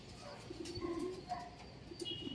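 Soft pigeon coos repeat faintly over a quiet outdoor background, with a few light chirps near the end.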